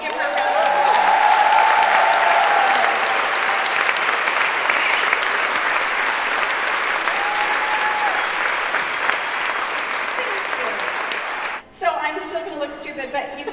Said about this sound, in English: Can you help me give her a round of applause?